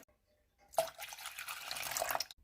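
Water pours steadily from a cup into a bowl for homemade pizza dough, a close splashing stream lasting under two seconds before cutting off.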